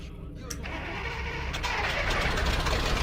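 A vehicle engine in the game Stalker cranks over and catches, then settles into a steady rumbling run that grows slightly louder and stays close.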